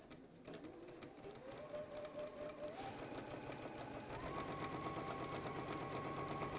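A sewing machine runs continuously, stitching a quarter-inch seam beside a drawn line on quilting fabric, its rapid even needle rhythm rising slightly in speed partway through, close and alone.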